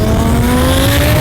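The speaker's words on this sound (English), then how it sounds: "he's a dude that makes Lamborghinis sound like this." Twin-turbo Lamborghini Huracan engine revving loudly and close, a brief sustained high-pitched roar holding a steady tone with dense low rumble underneath.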